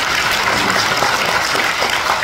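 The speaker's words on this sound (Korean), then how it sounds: "박수 한번 주세요." Audience applause after a documentary film screening in Chuncheon, a brief, even burst of many hands clapping together at close range, with no voices over it.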